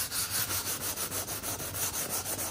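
Worn, scratched leather is given a quick sanding, producing soft rhythmic rubbing strokes that repeat evenly at close range with no voices.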